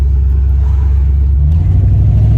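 A 1987 Ford Mustang Foxbody engine while driving, a loud, steady low rumble heard from inside the car.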